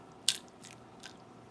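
A moringa seed eaten with its shell on gives one sharp, close crunch, then a few fainter crunches spread over about a second and a half in a quiet room.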